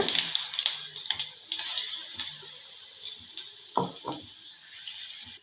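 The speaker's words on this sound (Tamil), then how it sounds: "அதையும் நல்லா எண்ணெயிலேயே வதக்கி விட்டுருங்க" Ground spice paste for hotel-style rasam sautéing in oil, a steady close hiss and sizzle with soft scraping stirs and a few sharper clicks throughout, no talking.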